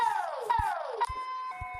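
Synthetic emergency alert siren from an animated alarm sequence, two quick descending sweeps followed by steady electronic tones, punctuated by low thumps, loud and close.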